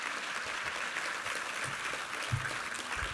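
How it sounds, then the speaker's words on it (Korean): A church congregation applauding together during a Sunday service, a dense, even roar of many hands clapping that holds steady for the whole stretch, with no voices. "우리 하나님께 감사와 영광의 박수 올려드리겠습니다"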